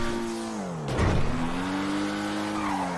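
A sports car engine in the video game GTA Online drones steadily, dips as it shifts gear, then climbs again, with tire squeal and skidding in between, loud and close with no voices.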